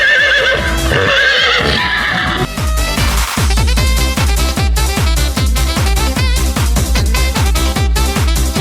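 A horse gives a loud, drawn-out whinny, then its hooves clip-clop in a steady, even rhythm for several seconds, with no talking.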